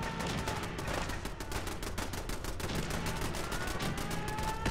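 Gunfire during a settlement battle in Fallout 4: a dense, steady stream of rapid shots and automatic bursts, some near and some farther off, with no talking.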